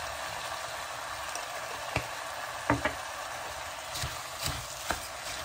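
Rice with vegetables and cinnamon gets stirred in a pot, giving a soft steady sizzle with a handful of quiet clinks and knocks of the spoon against the pot, no talking.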